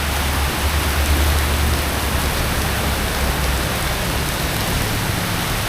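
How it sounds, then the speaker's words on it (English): Heavy thunderstorm rain pours steadily onto a street in Krabi, a dense, unbroken roar of water that stays loud and close throughout, with no voices. "At least it's warm rain."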